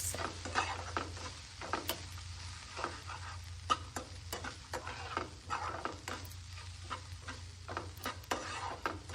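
Onion with garam masala and turmeric being stirred and sautéed in a pan, a steady low sizzle under repeated scraping and clinking strokes of a spoon against the metal, close and fairly quiet with no talking.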